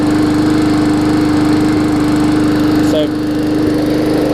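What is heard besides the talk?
Hyper Tough push mower engine running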